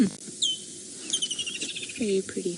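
A francolin gives a sharp, agitated call of rapid chirps and squeaks on an African safari drive, surrounded by a pride of lions. It sounds fairly close, and a person briefly speaks over it.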